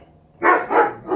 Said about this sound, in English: please excuse my dog. Somebody was pulling in the driveway.